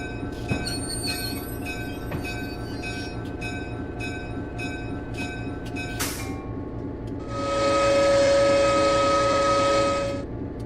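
A simulated New Haven Railroad EMD GP9 diesel locomotive idles with a steady low rumble and repeated bell dings, then lets out a long, loud horn blast.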